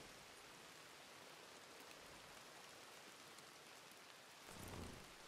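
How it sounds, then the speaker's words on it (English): Steady, soft video game rain hisses evenly throughout, with a slightly louder rushing swell near the end; no voices. "And it's raining again."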